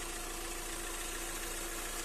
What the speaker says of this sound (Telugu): ఇంజన్ సౌండ్ మాత్రం స్మూత్ అండ్ సైలెంట్ ఉంది